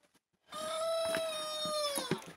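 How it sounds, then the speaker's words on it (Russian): A young rooster crows once in a backyard poultry yard, a single long, slightly strained and wavering call at moderate distance, preceded by a few faint clicks. "Ой, слышали, петух молодой орёт."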